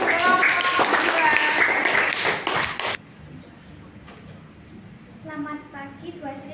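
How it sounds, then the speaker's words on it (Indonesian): Applause in a classroom after a student group presentation: dense clapping for about three seconds, cutting off abruptly into quiet room tone, followed by a few faint voices. "Tepuk tangan untuk kelompok 2."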